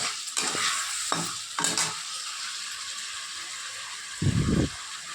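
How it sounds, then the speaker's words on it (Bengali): Chilli chicken being stirred and fried in a pan, with a steady sizzle and a few louder bursts of spatula scraping, close and clear with no talking. "এবার ভালো করে এটা নাড়াচাড়া করব।"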